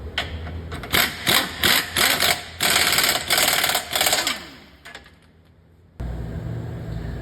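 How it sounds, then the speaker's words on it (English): A power tool snugs the 18 mm rear bolt of the front lower control arm on a 2008-2015 Nissan Rogue, firing in several loud rattling bursts over a few seconds before winding down, followed by a steady workshop hum. "Now I'm going to go ahead and tighten up this back bolt"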